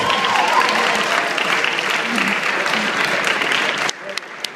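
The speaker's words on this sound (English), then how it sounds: "how about another round of applause for the maid of honor" Wedding guests at a reception clap in a sustained round for the maid of honor, dense and lively, with a few murmured voices mixed in, before the clapping cuts off and a quieter room remains.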